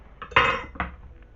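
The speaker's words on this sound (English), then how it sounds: "the next thing I'm going to do is pop those straight into the slow cooker" Chopped shallots and onion tipped into a preheated slow cooker make two short, close clattering bursts with a softer tap afterwards. No one speaks.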